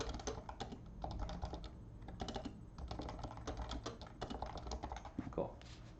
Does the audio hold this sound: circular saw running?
no